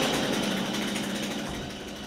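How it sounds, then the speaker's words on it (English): A chainsaw running steadily while an expert carver shapes a wood sculpture at a Christmas crafts village, a loud continuous buzzing engine drone that eases slightly toward the end. "an expert carver uses a chainsaw to make amazing sculptures"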